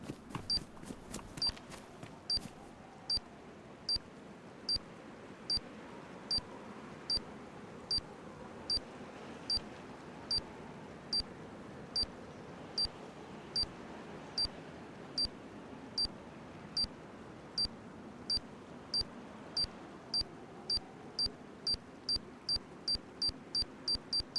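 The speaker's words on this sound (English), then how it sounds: "And it will start beeping." A raiding charge placed on a door in the DayZ video game gives off short, high, electronic beeps at a steady pace that quickens toward the end, clear over low background rumble.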